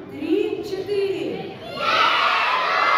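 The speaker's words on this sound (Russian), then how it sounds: "нужно всем вместе дружно громко крикнуть" Children at a school New Year's party performance of the fairy tale Twelve Months shout together loudly on cue, a burst of young voices with crowd chatter and some cheering around it, after a brief lead-in of a voice speaking.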